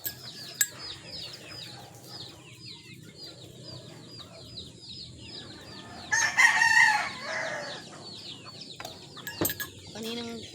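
A rooster crows once, fairly loud and a short distance off, over a steady background of small birds chirping outdoors.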